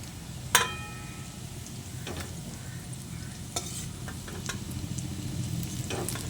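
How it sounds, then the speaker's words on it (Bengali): Golden fried onions being lifted out of hot mustard oil in a pan, a steady close sizzle with a sharp metallic clink near the start and a few light scrapes of the spoon. "পেঁয়াজটাকে আমি সোনালি করে ভেজে নিয়েছি এবার এটাকে আমি তুলে নিচ্ছি"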